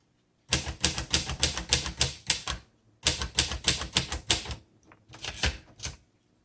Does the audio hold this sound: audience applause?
no